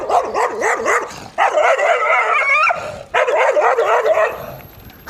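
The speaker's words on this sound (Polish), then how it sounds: "O, już się psy pokazują." Several dogs bark repeatedly in loud, overlapping bursts with some yips, close by along a route near a building site in Arashenda, Georgia.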